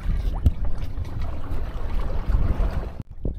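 Small sailboat under close-hauled sails moving through water, a loud close wash of water and wind buffeting against the microphone with irregular thumps, cutting off briefly near the end.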